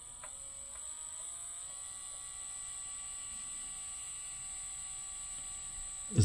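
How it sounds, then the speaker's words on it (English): A small, noisy DC motor runs off a bench power supply, giving a steady high-pitched electric whine and buzz with a few tonal shifts early on, held in a hand, ending with a brief thump. "I think I actually took another motor by mistake. This one is noisier"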